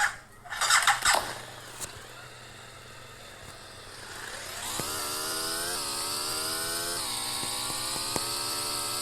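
Video game motorcycle engine revving up from about four seconds in, a steady synthetic drone with pitch steps like gear changes, after a few sharp clicks and thumps at the start.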